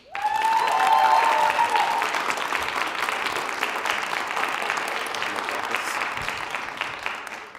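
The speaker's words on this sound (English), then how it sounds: "I think you deserve a round of applause for that" Applause from the audience at the GM Week final debates, a thick burst of clapping that starts abruptly, peaks early and continues steadily, with a brief tonal squeal over the opening seconds.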